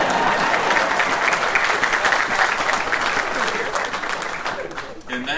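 An audience at a university stadium groundbreaking ceremony applauding steadily for several seconds, a dense wash of clapping that fades toward the end.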